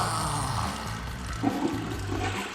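A toilet flush sound effect roars and gurgles steadily as rushing water drains, continuous and fairly close, with a couple of small bubbling bumps near the end and no talking.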